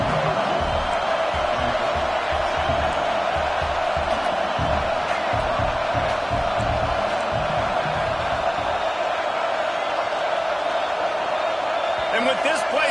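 A steady, dense roar of a stadium crowd in the NCAA 25 college football video game fills the whole stretch, loud and constant, with a commentator talking over it.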